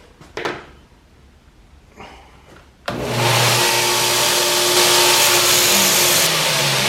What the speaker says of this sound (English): So we'll get to grinding them off next